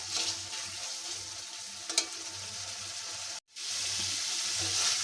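Meat with chickpea lentils stir-frying in a pan, a steady close sizzle with light scraping and a brief cutout midway, no voices.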